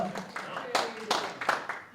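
An audience applauds a player at an open mic night, brief scattered clapping mixed with voices talking.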